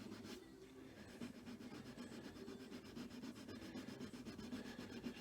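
Steady rubbing on the leather trim of a Porsche 996/997 to take off burrs, a continuous close scraping friction with even rhythmic strokes and no talking.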